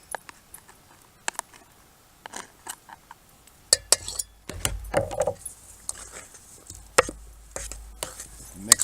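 Potatoes being mixed and mashed with butter, salt and pepper outdoors at an RV campsite, a series of irregular close clinks, taps and scraping squishes of the utensil against the dish, no talking.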